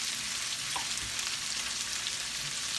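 Country potatoes frying in butter in a skillet give off a soft, steady sizzle and crackle throughout, fairly quiet and close, with no talking.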